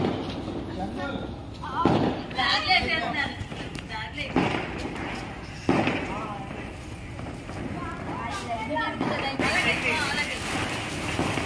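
Diwali firecrackers burst at a home celebration, a few sharp separate bangs standing out over nearly constant talking from people nearby.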